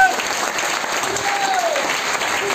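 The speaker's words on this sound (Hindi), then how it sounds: "तालियां बेटी के लिए जोरदार।" A seminar audience claps in a sustained, dense burst of applause that holds steady throughout, filling the room evenly with no pauses.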